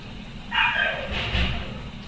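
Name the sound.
dog barking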